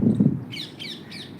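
Birds chirp over open Punjab farmland under dark rain clouds: three short, bright calls in quick succession, fairly close, following a brief low rumble at the start.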